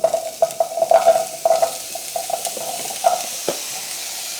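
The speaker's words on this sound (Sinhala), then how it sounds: "මම දැන් මේකට කපාගත්ත මඤ්ඤොක ටික එකතු කරගන්න තමයි හදන්නේ." Cut cassava pieces being stirred in a frying pan for a curry, with a steady sizzle under repeated scraping stirs and a few knocks of the utensil against the pan, close and fairly loud.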